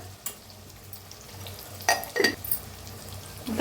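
Red chili and coriander powder masala roasting in a pan, a low sizzle under a few scraping stirs and brief clinks of a utensil against the pan.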